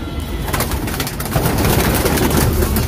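Pigeons coo steadily inside a cage at a pigeon-keeping loft, a continuous murmur of soft, overlapping calls that swells slightly louder midway through.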